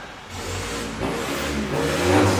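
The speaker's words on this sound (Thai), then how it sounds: "ท่อซิ่งเสียงหวานเอาฟังเสียงท่อหน่อยไหมมาดู" A motorcycle with a racing exhaust revs up in rising surges, a loud, gritty exhaust roar building close by with no voices.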